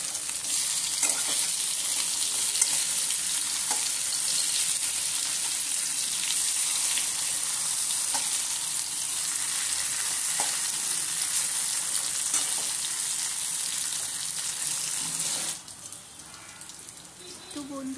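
Bottle gourd pieces fry in a pan over a steady flame, giving a continuous close hiss and sizzle with faint stirring scrapes throughout, easing slightly near the end.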